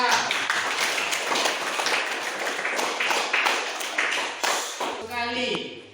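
Schoolchildren clapping together in a classroom, a dense busy patter of hands that carries on steadily for several seconds before fading, with a voice rising briefly near the end.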